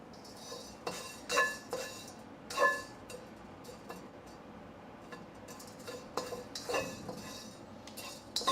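Food is tossed in a pan with a spatula, giving irregular metallic clinks and scrapes with a few sharper knocks, close and moderately faint, with no voices over it.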